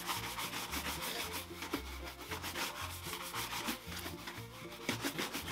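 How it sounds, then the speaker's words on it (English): A brush works over crust leather shoes during a custom patina finish, making steady, rhythmic back-and-forth scrubbing strokes that are close and fairly loud, continuous throughout, with no one speaking. "Give these a little brushing and then let them sit for a while."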